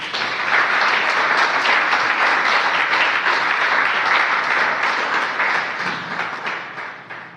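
Hearty applause for the Lord fills a church, many hands clapping in a thick, even roar that holds steady for several seconds and then tapers off.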